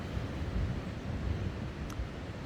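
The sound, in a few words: wind blowing outdoors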